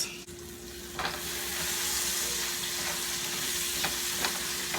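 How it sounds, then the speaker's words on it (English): Onions sautéing in a pan give a steady, close sizzle and frying hiss that runs through the whole stretch, with a few soft stirring scrapes and no talking. "So my onions are sauteing up."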